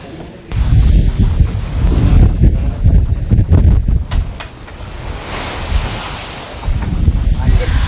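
Waves and wind at sea on the Java Sea, heard from a boat: gusty wind buffeting the microphone over sloshing water, loud and close, rising and falling in surges.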